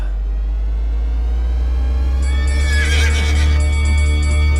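A horse lets out a loud whinny over a steady low rumble, the call rising and trembling for a couple of seconds before fading.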